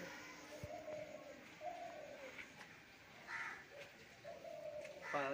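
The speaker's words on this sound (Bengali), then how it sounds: "এই যে দেখুন পায়রাগুলো দেখুন, হলো এই যে পায়রা 10খানা পায়রা উঠছে" A flock of about ten pigeons coos softly, with repeated low, throaty calls overlapping at a distance against a faint, steady outdoor background.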